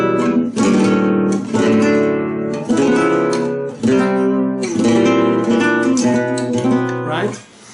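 Flamenco guitar strums a chord progression using substitute dominant chords, full rhythmic strummed chords changing every second or so, loud and close, ringing out at the end with no talking.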